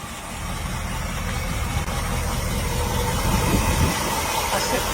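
A Ford F-150 truck engine runs at a steady rumbling idle, close and continuous with slight rises in level.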